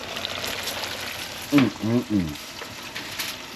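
Catfish frying in grease heated to about 340–350 degrees makes a soft, continuous crackle, with a few brief louder bursts partway through.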